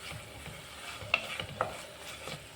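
Spices for rajma frying in hot oil give a soft, steady sizzle with a few sharp stirring clicks, quiet and close with no voices.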